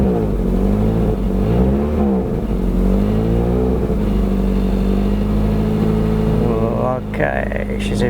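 A classic 1988 Australian Mitsubishi Colt engine on a revival attempt revs up and down close by, loud rising and falling harmonic tones over a steady idle, with a brief sharper burst near the end.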